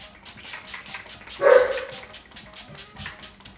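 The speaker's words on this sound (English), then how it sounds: "That's my dog." A dog gives a single sharp bark in a home setting, moderately close and standing out against a quiet background with faint rhythmic noise.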